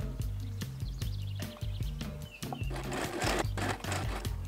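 A sewing machine stitching fabric waist ties onto the front extensions of a wrap skirt, running in rapid rhythmic bursts with brief pauses and speed changes, close and steady, no voices.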